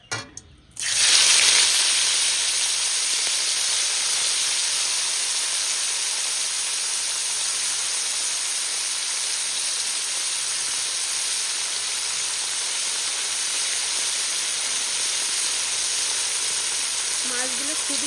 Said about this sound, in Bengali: মাছগুলো তেলে দেব।